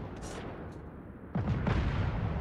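Torpedo hits on a ship in World of Warships land as a few muffled booming impacts in quick succession after a quieter lull, fairly faint and alone.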